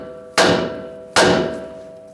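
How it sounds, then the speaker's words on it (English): Two sharp metallic hammer strikes knock a ball joint on a Ram 1500 steering knuckle, each a loud, ringing clang that decays slowly, spaced under a second apart with a steady hum underneath. "If not, just use a hammer."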